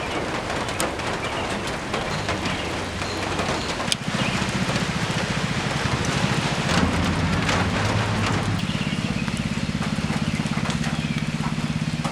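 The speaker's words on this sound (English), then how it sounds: "Okay, so it's still raining" Steady rain pattering on surfaces nearby in a garden, a dense continuous hiss with occasional louder drips and faint bird calls in the background.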